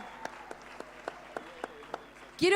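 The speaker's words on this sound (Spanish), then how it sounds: "¡Fuertes aplausos!" An audience at a live talk show recording claps, starting as a string of evenly spaced single claps and swelling into louder, fuller applause at the end.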